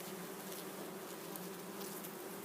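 Bees buzz inside an opened hive, a dense, even hum holding steady from start to finish, close and alone with no voices.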